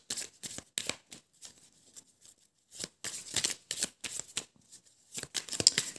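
A tarot deck handled and cut in bursts of soft papery shuffling and flicks, close and quiet, separated by short silent gaps, with nobody speaking.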